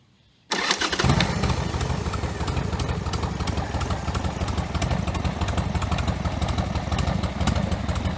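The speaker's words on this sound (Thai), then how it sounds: "มันต้องวอร์มหน่อย ให้รอบเครื่องมันให้เครื่องมันร้อนขึ้นหน่อยนึงนะครับ" A Harley-Davidson Sportster 1200 starts up after a brief silence, then runs loud and close at a steady, slightly uneven idle while it warms up, with no voices.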